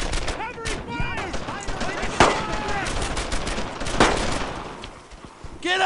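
Gunfire rings out in a Brothers in Arms: Earned in Blood battle, with sharp shots and bursts, two prominent loud cracks standing out, mixed with shouted soldier voices throughout.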